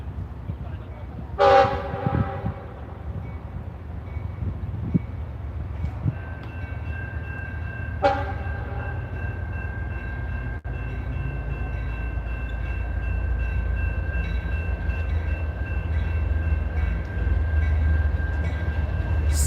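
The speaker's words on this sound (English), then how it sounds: "CSX crossing the diamond." A CSX freight train crosses a railroad diamond, its horn blasting twice from mid-distance before the steady rumble and rolling clatter of railcars builds and continues.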